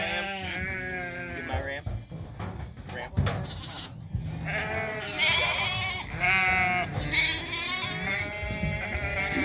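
Sheep and lambs bleat repeatedly in a pen at a farm during sorting day, a dense overlapping chorus of calls close by, with people talking among them.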